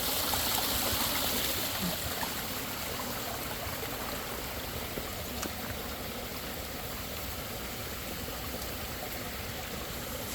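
Water from a Bakki shower trickles and splashes steadily through a koi pond filter, a constant close broadband wash with no voices over it.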